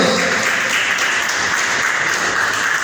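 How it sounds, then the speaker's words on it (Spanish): A church congregation applauds during a Spanish-language sermon, a dense, steady wash of clapping that holds evenly at full strength throughout, with no voice over it. "¿Cuánto le da un aplauso a Jesucristo?"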